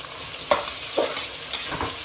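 Cashews sizzle and fry in hot oil for a vegetable pulao. A soft, steady crackle runs underneath, broken by a few sharp stirring clinks and scrapes.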